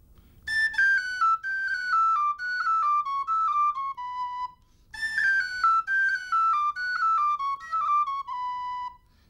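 An Irish tin whistle plays two matching runs of quick descending notes with hammer-on articulation, each phrase ending on a held low tone, clear and close with a brief pause between runs.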